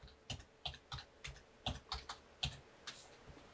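Keys on a computer keyboard are tapped in short, uneven bursts while a Windows shutdown command is entered. The clicks are close and crisp, with no one speaking.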